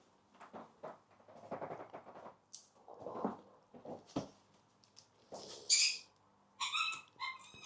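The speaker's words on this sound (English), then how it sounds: "Excuse the dog." A dog gives a few short, sharp barks and yelps at mid distance, spaced irregularly among quiet handling noises while beehive supers are being taken off for extraction.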